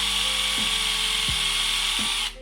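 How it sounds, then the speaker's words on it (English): A small power tool whirs continuously at a high pitch while sanding a screw for a lightsaber build, and the motor noise cuts off abruptly at the end. "So I guess it's back to sanding."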